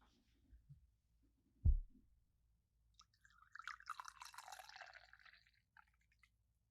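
Tea poured into a cup, a brief thud of the cup at first, then a quiet trickling pour lasting about two seconds, close and soft in an otherwise silent room.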